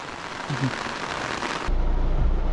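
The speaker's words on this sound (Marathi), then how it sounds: "पाऊस बघा किती येतो" Steady, dense hiss of heavy monsoon rain pouring down at Mithbav market, loud and continuous, with a deeper rumble joining in toward the end.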